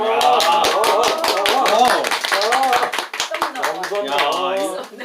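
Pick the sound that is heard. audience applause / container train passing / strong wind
audience applause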